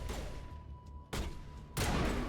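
Gunfire in Mass Effect Legendary Edition played on Insanity, two sharp broadband bursts about half a second apart standing out over a low steady game background hum, the second burst louder and longer.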